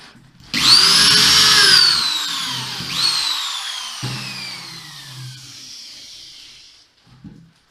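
A power drill set to clutch level 10 drives screws into melamine board, two loud whining bursts of spinning, the first long and strong, the second fading out, with short knocks between and at the end.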